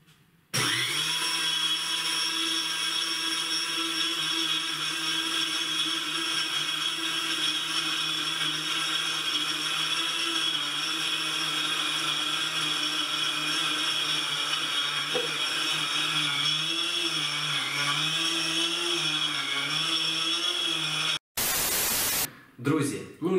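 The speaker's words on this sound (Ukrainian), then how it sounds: "поки в нас мелиться пудра, цукрова пудра" A loud electric mill grinds sugar into powdered sugar, a steady high-pitched mechanical whine with a droning hum that runs almost without a break, wavering slightly in pitch, then cuts off abruptly near the end.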